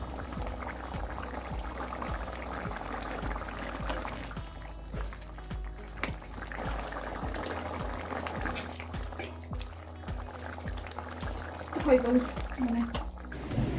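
Pigeon meat curry simmers in a pot on a gas stove, giving a steady, soft bubbling and gentle sputter throughout, with a few louder pops near the end and a voice talking in places.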